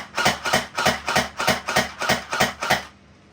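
A converted water gel airsoft blaster fires in single-shot mode: about eight sharp, loud shots at a steady, quick rhythm, each a clean snap with a short mechanical tail, then silence.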